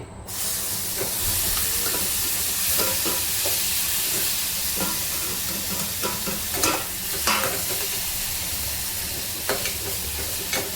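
Marinated prawns fry in butter on a hot tawa over a low gas flame, giving a steady close sizzle and hiss with occasional stirring clicks and pops, and no talking.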